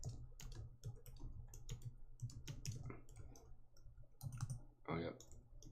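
Computer keys clatter in short irregular bursts close to the microphone, while quiet speech murmurs faintly underneath.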